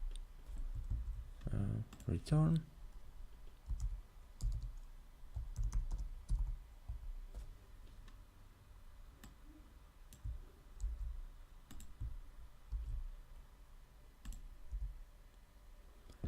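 Computer keyboard keys clatter in uneven bursts of clicks while JavaScript function code is typed, close and fairly quiet beneath a man explaining as he works.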